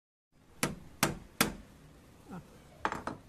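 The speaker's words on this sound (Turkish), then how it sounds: "Hatta çekiçle biraz vuruyoruz." A hammer drives a wall nail into a PVC window frame with three sharp, evenly spaced blows, a short scraping sound, then two quicker taps, close and fairly quiet with no talk.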